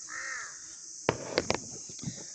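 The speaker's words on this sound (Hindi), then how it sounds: "कौवे की आवाज़ सुन सकते हैं आप।" Crow caws from a bird at a hill station on the way from Abbottabad to Thandyani: several sharp, harsh calls in a quick irregular cluster, moderately near, over a faint high insect-like hiss.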